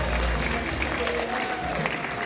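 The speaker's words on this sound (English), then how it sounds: "how about we'll give him a round of applause as well?" Audience applause at a live tiger show, a brief burst of clapping from the crowd mixed with general crowd noise and low rumble, moderately loud throughout.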